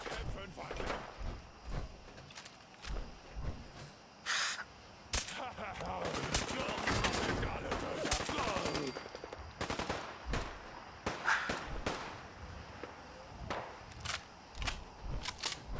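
Gunfire in the video game Fallout 4, with bursts of rapid shots and scattered single cracks heard at varying distances, mixed under someone talking throughout.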